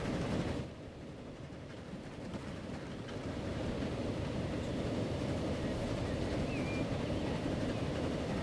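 A train running in the Transport Fever video game, with a steady low rumble and rolling wheel noise throughout and a constant level, without any voices.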